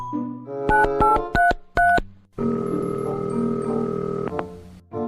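A string of short electronic dialing beeps is followed by a steady, loud tone that holds for about two seconds before cutting off.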